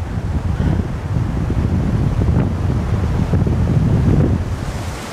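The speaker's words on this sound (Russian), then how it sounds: "Оглушающий поток, не позволяющий подобраться слишком близко и несущий свои воды с самой шапки ледника" Roaring glacier-fed mountain waterfall at the Sufrudzhinsky falls, a loud continuous rumbling wash of water with heavy wind buffeting the microphone, no pauses throughout.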